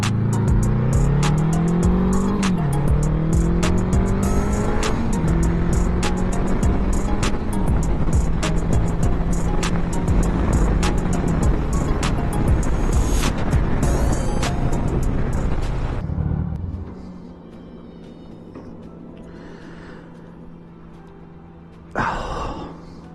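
A 1982 Honda Goldwing 1100 motorcycle pulls hard through its gears, the engine note climbing loud and close for about sixteen seconds before dropping away to a low idle, with a short blip near the end.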